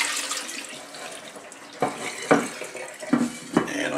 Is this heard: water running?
yes